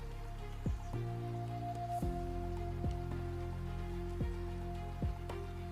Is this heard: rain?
yes